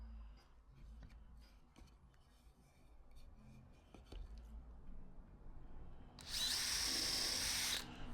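A drill fitted with a countersink cutter bit whirs loudly for about a second and a half after quiet handling noises, a steady close burst ending abruptly.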